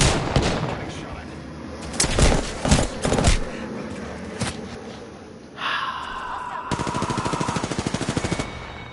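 Gunfire in a PS4 shooter game: scattered shots and impacts early on, then a rapid automatic burst near the end, mixed with other game effects and a faint voice.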